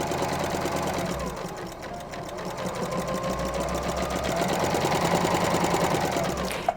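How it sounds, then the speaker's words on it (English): A sewing machine stitches across an apron strap, a continuous close mechanical whir with rapid needle rhythm and slight speed swells, ending with a small click. "Sewing across the other strap."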